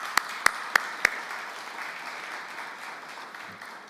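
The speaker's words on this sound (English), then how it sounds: "So please, a round of applause." An audience at a conference on land and pastoralism applauds: a few sharp individual claps ring out first, then steady, softer clapping fills the room and fades slowly.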